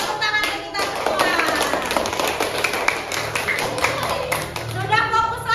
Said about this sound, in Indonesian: Oh, tepuk tangan ke kita semua.